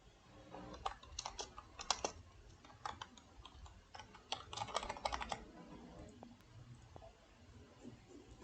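Quick, irregular bursts of typing on a computer keyboard, with light clicky keystrokes in clusters and short pauses between, close and fairly quiet over a faint room hiss.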